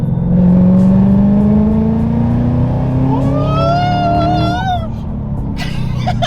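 A Whipple supercharged Mustang with a Coyote engine accelerates hard through a fourth gear pull, its loud, steadily rising engine drone and supercharger whine climbing in pitch before easing off near the end.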